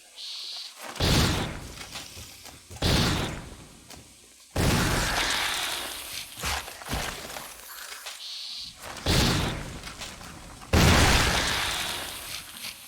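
Gunshots in Resident Evil HD Remaster, a series of about six loud booming blasts spaced a second or two apart, each with a decaying ring and short echo.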